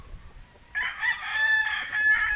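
A talisayin gamecock crows once, loud and close, the call starting after a short quiet gap and holding to the end with no talking.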